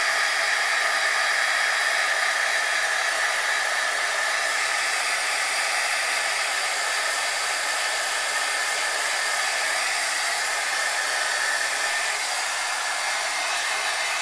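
A heat tool blows continuously while embossing a paper card, a loud, steady airy roar held for the whole stretch with no talk.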